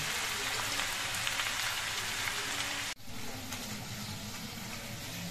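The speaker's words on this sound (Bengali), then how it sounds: "এবার তেলের মধ্যে আমি অল্প করে মোচার খোলা দিয়ে ভেজে নিচ্ছি" Banana flower bracts fry in hot oil, a dense, continuous crackling sizzle like heavy rain, with a brief dip midway before the steady frying resumes, close and fairly loud.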